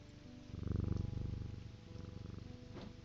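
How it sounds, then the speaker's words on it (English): Cat in the video game Strange Antiquities purring while being petted, a low steady rhythmic rumble that swells loud and close early on, then eases and continues softly to the end. "Let's pet a cat."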